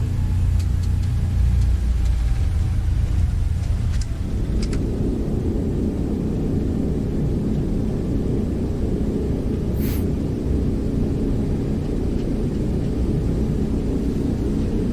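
A simulated Aerosoft A320 in Prepar3D v4 touches down on the runway at Houston IAH: a faint whine gives way to a sudden heavy rumble at about four seconds that rolls on steadily, loud and continuous.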